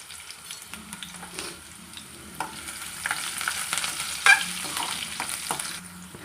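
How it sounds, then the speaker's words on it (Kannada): Onion and curry leaves fry in a pan with a quiet, steady sizzle, punctuated by scraping stirs and small clatters from the utensil, heard close and alone. "ಈರುಳ್ಳಿ ಮತ್ತು ಕರಿಬೇವು ಸೊಪ್ಪು ಇವೆರಡು ಹಾಕಿ ನಾನು ಸ್ವಲ್ಪ ಒಂದು ನಿಮಿಷ ನಾವು ಇದು ಫ್ರೈ ಮಾಡ್ಕೋಬೇಕು"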